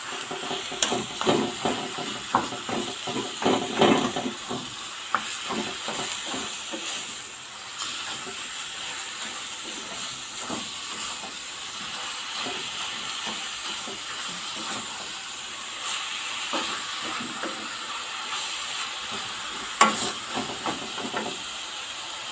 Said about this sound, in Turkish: Kıymamızı şöyle kavuruyoruz.